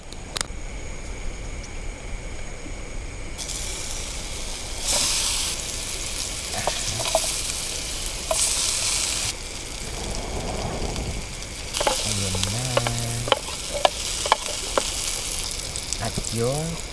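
Onion and small river crabs sauté in a pan at an outdoor riverside camp, a loud steady sizzle with stirring clatter, while a person talks at points.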